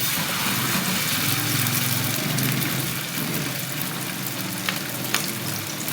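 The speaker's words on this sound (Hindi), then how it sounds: "इस वक्त मैं इसमें जितने इस पैन में आएंगे मैं कबाब अभी डाल दूँगी" Peshawari chapli kababs shallow-frying in a pan give a loud, steady, close sizzle that runs unbroken throughout, with a couple of small spits and pops near the end.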